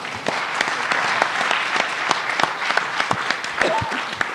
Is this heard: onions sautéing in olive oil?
no